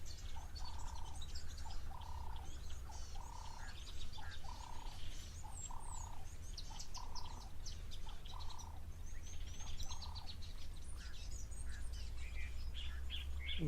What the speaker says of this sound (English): just listen to all the different bird calls that we can hear in the background